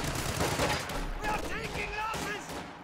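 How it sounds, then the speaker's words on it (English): MG42 machine gun fire in a Company of Heroes 2 match, with rattling bursts and battle noise in the game mix under a commentator talking. "Especially a machine gun that's as slow to set up as the MG42"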